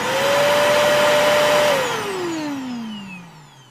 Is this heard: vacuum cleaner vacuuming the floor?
yes